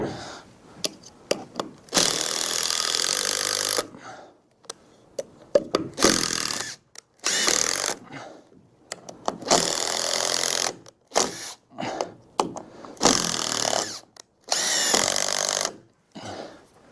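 Power drill driving screws into steel joists, loud whirring bursts of a few seconds each, repeated about five times with quiet gaps and clunks between.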